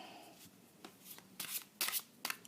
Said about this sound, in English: let's see if we can shuffle this without